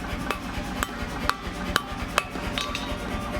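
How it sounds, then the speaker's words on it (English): A hand hammer strikes Damascus steel at the forge, with sharp metallic blows landing in a steady rhythm roughly every half second over a low background rumble. "just finish it off with your normal hand hammer"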